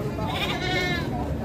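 Goats bleat at a livestock market, with harmonic cries rising and fading over a steady hum of crowd noise and nearby voices.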